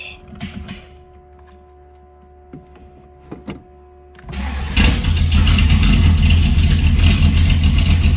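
A Ford Capri engine on full choke cranks briefly, then catches and settles into a loud, steady idle close by, after a few faint knocks and clicks.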